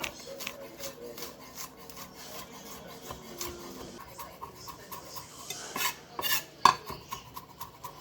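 A knife chops garlic cloves finely on a board for spicy garlic chili noodles, with irregular tapping and rubbing strokes close by that grow sharper and louder toward the end, with no talking.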